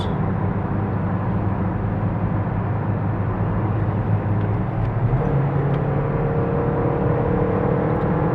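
A car engine running hard at full speed up a long straight slope, a steady loud drone and whir that shifts upward in pitch partway through, with no talking.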